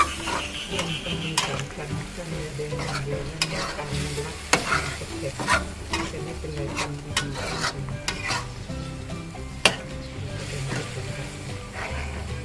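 Pork being simmered and stirred in a pan for a Thai sweet pork dish, with a steady sizzle and bubbling under repeated scraping and clinking of a utensil against the pan.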